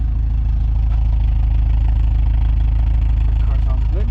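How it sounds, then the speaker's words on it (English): Honda EF sedan engine idling smoothly, a steady low, even rumble with no revving, close and continuous. "The car sounds good, no smoke."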